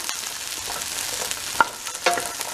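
Onions and mushrooms sizzle in a frying pan for a stir fry, a steady close crackle with a few sharper stirring scrapes and pops near the end, no voices.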